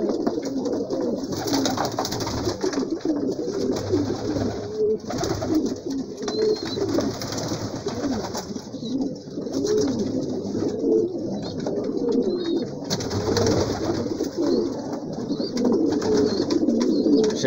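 Flock of about ninety loft pigeons cooing steadily while feeding from a tray, a dense, continuous murmur of overlapping coos close by with no talking.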